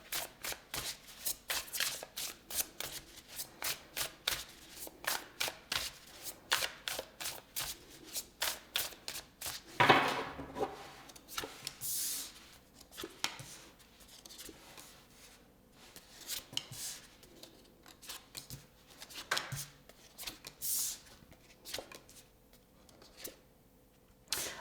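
A tarot deck is shuffled again and again in quick riffling bursts, each flurry of card flicks followed by brief pauses. The sound stays close and fairly quiet, with no one speaking.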